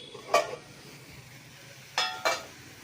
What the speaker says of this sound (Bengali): ঢাকাটা খুলছি।